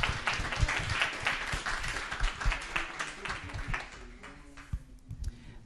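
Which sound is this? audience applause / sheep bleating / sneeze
audience applause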